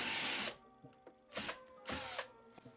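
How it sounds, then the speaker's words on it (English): Power drill boring through a hole while building a homemade heater, a whirring burst followed by several short ratcheting spins and stops, close and fairly quiet. "after we set the drill to go forwards instead of backwards"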